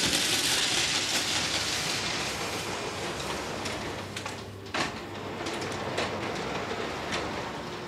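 A model train running on its track, a steady rolling rumble with rhythmic clicks as wheels cross rail joints, fairly close, with a few sharper knocks along the way.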